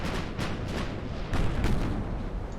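Heavy naval guns firing armour-piercing shells from a König-class battleship in the Ultimate Admiral Dreadnoughts naval game, a dull rolling boom of distant salvos under a steady low rumble, with no talk.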